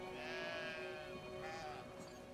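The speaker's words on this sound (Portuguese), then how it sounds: "Aí você vem aqui, pega uma ovelha." Sheep bleats in Brothers: A Tale of Two Sons, two drawn-out wavering calls over a steady game soundtrack hum, fairly close and clear with no talking.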